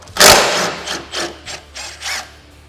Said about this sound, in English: Now we're gonna remove our sway bar link hardware.